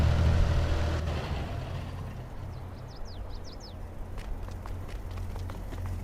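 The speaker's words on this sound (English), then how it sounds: "I can hear the truck still running" A truck engine keeps running at a work site: a low, steady rumble holds throughout at moderate distance, with faint chirps and light clatter over it.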